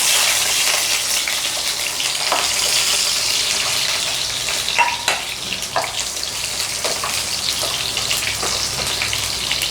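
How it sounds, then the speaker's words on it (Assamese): Capsicum sizzles and crackles in a hot pan with oil, a steady hiss under a few louder spitting pops, close and continuous with no talk. "এতিয়া মই কেপচিকামখিনি অলপ ফ্ৰাই কৰি ল'ম।"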